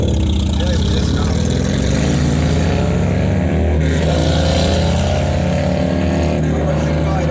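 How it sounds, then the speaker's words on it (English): A big motorbike roars loudly nearby on a street, its engine a steady heavy drone with a rising rev partway through, while a person talks over it. "Now you can see a big motorbike here. It's making noise even more than my car."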